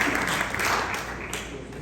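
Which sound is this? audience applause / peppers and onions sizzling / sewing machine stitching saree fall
audience applause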